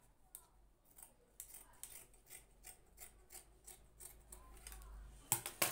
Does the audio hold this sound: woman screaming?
no